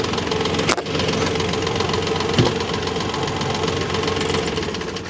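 A tractor engine runs steadily nearby in a wooded setting during tree cutting and log hauling, a continuous knocking drone with a couple of brief clunks.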